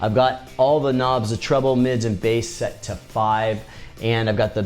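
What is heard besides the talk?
None of the usual background noises is heard.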